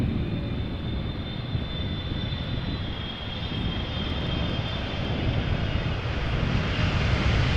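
A twelve-year-old airliner, first flown in January 2011, arriving at Amsterdam Schiphol Airport, a steady loud engine roar with broad rushing noise and a faint whine, slowly building over several seconds with no voices.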